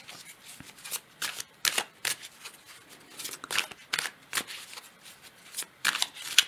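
Tarot de Marseille cards, a reproduction of a 1930 deck, being shuffled by hand in a run of crisp, papery riffles and slaps, close and fairly quiet, with irregular bursts and short pauses between them.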